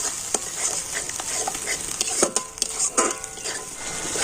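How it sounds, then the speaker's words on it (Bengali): Spices and sour yogurt are stirred and sautéed in a pan: a soft, low sizzle runs underneath while a spoon scrapes and knocks against the pan in irregular bursts. "টক দইটা দিয়ে আবারও আমি একটু কষে নিচ্ছি"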